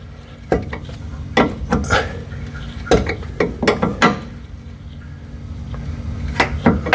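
A bolt on a Mazda MX-5 steering rack is turned with a ratchet, giving a series of short, close metallic clicks in irregular bursts.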